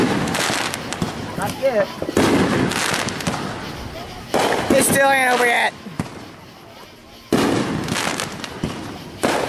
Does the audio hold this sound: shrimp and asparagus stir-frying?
no